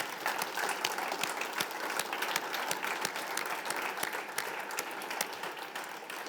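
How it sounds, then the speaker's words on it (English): Steady audience applause at a closing address event, dense continuous clapping from a sizeable crowd, fairly even in loudness throughout with no talking over it. "So please all give yourselves a round of applause."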